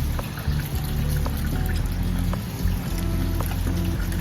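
Water poured into a pot of basmati rice, a continuous splashing, trickling pour with small clinks, fairly loud and close.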